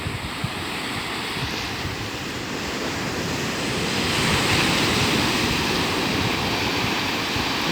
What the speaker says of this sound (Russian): По-моему, волна опять набирает силу.